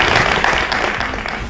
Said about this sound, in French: on applaudit pour monsieur Herbert.